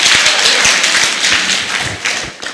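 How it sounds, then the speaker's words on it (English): Audience clapping at a youth empowerment and mentorship gathering in Masaba, Kisii, a loud, close burst of many hands applauding together with sharp individual slaps standing out against the dense patter. "Give him a clap"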